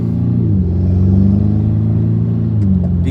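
An Acura TLX A-Spec engine in sport mode, running a K-Tuner Stage 2 tune, revs up and holds a deep rumbling tone, then falls back and rises again, close and loud with no talking.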